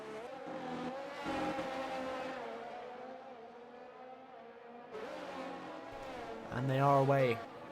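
Race cars launch from the start of a rain-affected Singapore Grand Prix in the F1 2023 video game, engine whine rising and falling with a sharp climbing rev near the end, heard under a commentator's talk.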